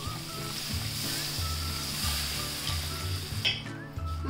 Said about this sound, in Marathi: आणि पाणी टाकून एक उकळी काढून घेते